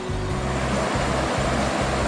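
A tributary of the Ciliwung river in the hills around Purwakarta rushes steadily with broadband, close water noise, while a low rhythmic thumping pulses underneath about every half second.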